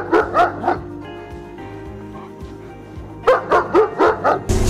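A German Shepherd barks in two bursts of rapid, loud barks separated by a quieter stretch with a low hum.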